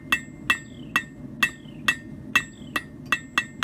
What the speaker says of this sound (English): Heat, hammer, couple taps,